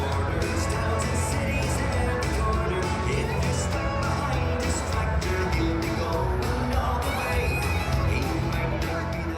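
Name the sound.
crowd at a celebration night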